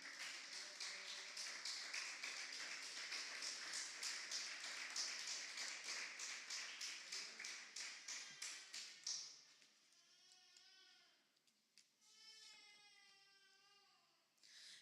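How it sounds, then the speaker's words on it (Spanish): A church congregation claps together in a quick, even rhythm for around nine seconds. The clapping then breaks off and a wavering, sung or whining voice follows over quieter background. "Démosle una ofrenda de palmas a nuestro Padre."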